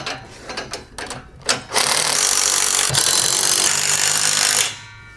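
A 9/16 socket wrench tightens U-bolts on a MicroSport Overland tent trailer: a few quick clicks and knocks, then a long, loud continuous ratcheting rasp up close that stops abruptly near the end.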